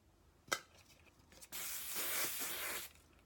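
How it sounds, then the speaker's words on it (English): Hairspray hisses out of an aerosol can in one steady burst of about a second and a half, close and fairly loud, after a short sharp click. "this is my favorite hairspray"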